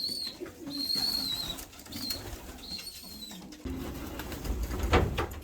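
Pigeons, among them a tame white one, coo softly in repeated low phrases close by, with a few brief wing flaps and rustles and faint background noise, and no talking.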